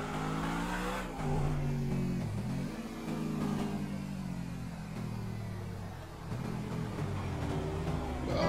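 A car drives in GTA V, its mid-pitched engine revving up and easing off in repeated surges, loud and close throughout with no speech over it.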